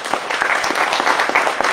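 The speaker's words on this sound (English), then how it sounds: "Let's give our visitors a hand clap." A church congregation claps for visiting guests, a quick burst of many hands applauding together in a reverberant room, steady and fairly loud for the short stretch.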